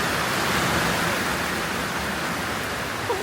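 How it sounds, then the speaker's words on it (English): Steady rain falls outdoors as a storm approaches, a dense continuous hiss of drops on surfaces that stays close and even throughout with no breaks. "Probably should have done this before it started raining."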